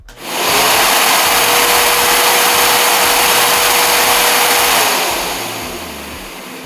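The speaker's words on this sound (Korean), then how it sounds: "일반적인 공업용 청소기입니다" A budget industrial vacuum cleaner with dust-collection function spins up quickly to a loud, steady roaring whine with a faint pitched tone, running close by and then beginning to wind down at the end.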